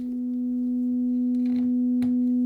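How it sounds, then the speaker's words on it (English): An Instruō àradh filter self-oscillates as a sine wave oscillator, producing a steady, loud, pure tone that holds one pitch throughout, with faint clicks from patching in the background. "kick it into self-oscillation, and have this track as a sine wave oscillator"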